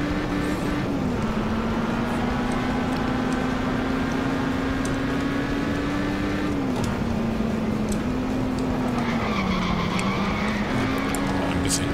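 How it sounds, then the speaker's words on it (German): A video-game car in Overspeed drifts and skids, its engine droning steadily with pitch shifts as it slides, tyre squeal layered on top, loud and continuous throughout. "Ein bisschen driften, driften, wow."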